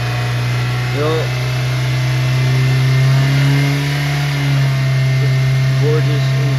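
A car engine runs loud and close, its drone rising in pitch as the revs increase and then easing back, while a person talks over it.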